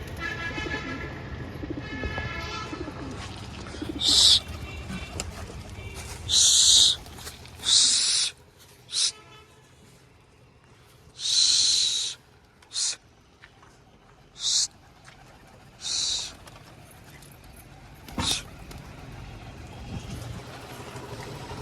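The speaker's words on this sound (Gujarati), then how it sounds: "એટલે આપણા બધા કબૂતર ઉડી ગયા" Domestic pigeons cooing in bursts close by, several separate coos spread across the stretch with quiet gaps and faint background noise between them.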